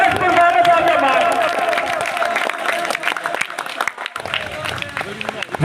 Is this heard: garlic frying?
no